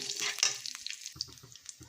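Dried red chilli, tempering seeds and cumin stirred in hot oil, a soft sizzle with scraping stirs and a few clinks of the spoon against the pan, fairly quiet and close.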